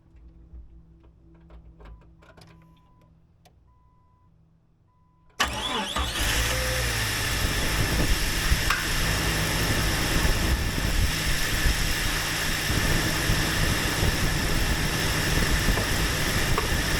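A DIY alternator welder's small engine starts abruptly after a few seconds of quiet ticking, then settles into a loud, steady idle of about 800 RPM that runs unbroken to the end.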